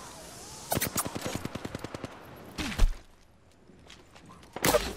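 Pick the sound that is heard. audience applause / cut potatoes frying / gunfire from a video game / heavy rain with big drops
gunfire from a video game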